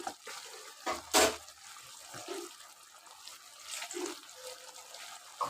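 Water from rinsing a mixer jar poured into a cooking pan, a quiet splash and trickle with one brief louder gush near the start and soft clinks of the jar.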